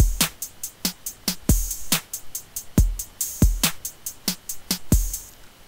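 Trap beat programmed in LMMS with TR-606 closed and open hi-hats: crisp ticking hats in a steady pattern, punctuated by deep booming kick or 808 hits and snare accents, loud and dry with no voices.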